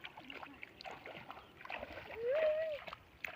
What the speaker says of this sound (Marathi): आता पाण्यातनं वाट काढलेली आरवनं